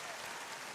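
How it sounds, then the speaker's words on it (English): Applause breaks out on a talk radio show after a caller nails a song identification, a steady dense patter of clapping at moderate level, heard alone for a brief moment. "I need Spence to have some applause for that one"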